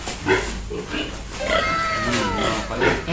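Native pigs grunting and oinking close by, with a few short snorts and a longer squealing call in the middle.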